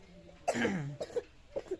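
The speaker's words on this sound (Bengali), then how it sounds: "খুব খুব করে কাশি হচ্ছে" A child coughs once in a sharp burst, followed by a few smaller hacking coughs, close up in a quiet room.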